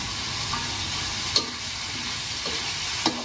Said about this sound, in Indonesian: Ini tahu sing wingi sisa wingi lagi gorengi.